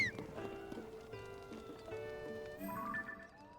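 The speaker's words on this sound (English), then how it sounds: "Oh, look at the cute horsey." Horses in Zelda: Tears of the Kingdom whinny and snort softly amid a light in-game melody, with gentle hoof sounds, all fairly quiet and at a moderate distance.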